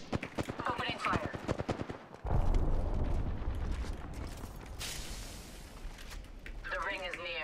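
Gunfire in the battle royale game Apex Legends crackles in rapid automatic bursts, giving way to a dense, loud sustained roar of shooting and explosions with game voice lines mixed in.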